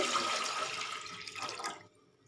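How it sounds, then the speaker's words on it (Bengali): Three cups of water pour into a pan on a lit gas stove for a rasgulla sugar syrup, a close, full rushing splash that thins and fades before stopping, leaving near silence. "এর মধ্যে দেব আমি তিন কাপ জল তিন কাপ জল দিয়ে দিলাম"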